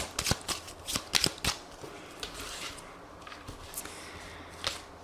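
Tarot cards shuffled by hand in a series of quick, crisp riffling bursts near the start, then quieter occasional card flicks, close and alone with no talk.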